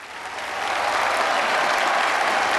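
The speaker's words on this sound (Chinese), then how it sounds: "把掌声送给我们的魔唱歌手。" A television studio audience applauding a singer after a vote on a singing show, dense continuous clapping that swells in the first second and then holds loud and steady.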